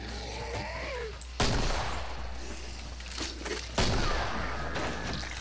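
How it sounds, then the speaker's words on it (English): Hand cannon gunfire in the video game Killing Floor: two loud, sharp blasts a couple of seconds apart, each with a long booming tail, heard close. "it's a hand cannon this time, too."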